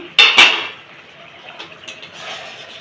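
A metal lid lifted off a cooking pot while making a Bengali fish curry, two bright clanking knocks close by, then a soft sizzle and faint rattling.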